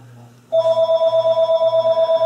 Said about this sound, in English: That was a phone call there wanting money for something.